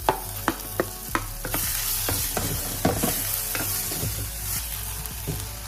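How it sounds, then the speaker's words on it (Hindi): Tomatoes drop into a hot pan that is already frying onions, and a steady close sizzle follows while a spoon scrapes and clacks against the pan in several distinct strokes. "नेक्स्ट इसके अंदर मैं डालूंगी मेरे टमाटर"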